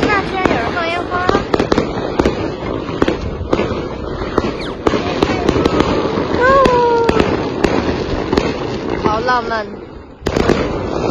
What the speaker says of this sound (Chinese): 天 哪， 居然有人放烟花。